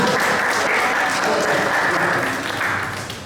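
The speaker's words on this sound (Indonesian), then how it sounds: "Ya, tepuk tangan." A church congregation in Jakarta breaks into loud, sustained applause, a close, dense wash of clapping that tapers slightly at the end.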